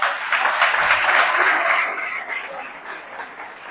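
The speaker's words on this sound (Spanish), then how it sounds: "Denle un fuerte aplauso a Cristo." A church congregation applauding, a full crowd of clapping that starts strong and gradually thins and fades toward the end, with no speech over it.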